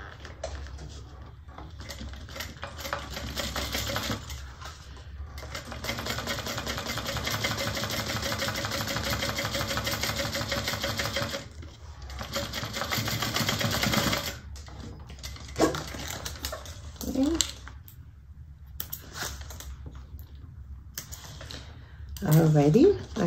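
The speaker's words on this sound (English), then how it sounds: "Now we're just going to top stitch 1/8 of an inch from this edge, from the raw edge in my case." A sewing machine top stitches along a bag edge in long steady runs broken by short pauses, with faint handling noises and a little talk nearby.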